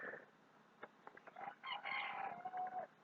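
Faint chickens clucking and squawking nearby, followed by a drawn-out rooster crow toward the end, somewhat distant and quiet.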